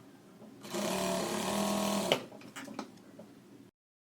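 A sewing machine stitches a lining seam on a blouse sleeve, running steadily for over a second with a fast whirring hum, then stopping with a few clunks and clicks of the mechanism, close by.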